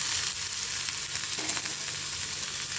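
Boiled cauliflower pieces fry in hot oil in a pan, producing a loud, dense, continuous sizzle close by with a faint stir partway through.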